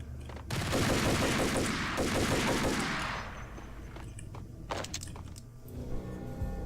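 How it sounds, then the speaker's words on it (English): Gunfire in the video game Max Payne, a dense rapid automatic burst lasting several seconds, followed by scattered single shots and thuds, loud and close. "There's a guy out here shooting at me."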